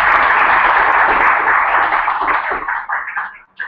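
Audience at a sales techniques workshop applauding, a loud close wash of clapping that thins into scattered individual claps and fades out near the end.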